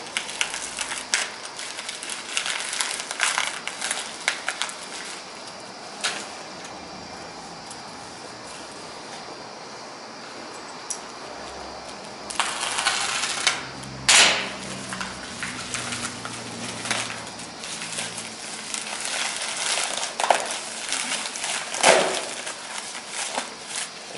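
Paper envelope being torn open and handled, with crinkling rustles and a few sharp ripping bursts, loose quarters inside clinking faintly, close and moderately loud with no talk.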